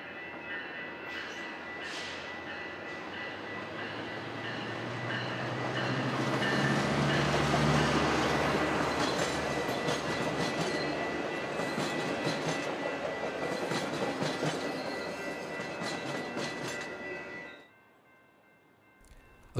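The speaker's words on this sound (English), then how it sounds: "a Metrolink commuter train arrived from Fullerton with a fresh dusting of snow on the distant mountains" A Metrolink commuter train arrives at Orange from Fullerton, a long rumbling roll with rhythmic clacking wheels building to a loud peak as it passes close, then easing off before cutting out.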